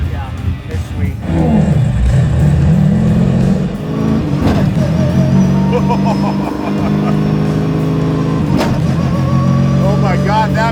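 A 700 hp Chevy C5 Z06 Corvette engine revs hard through a no-lift shift, the ignition cut producing a sharp pop amid loud, sustained engine roar, with people talking over it.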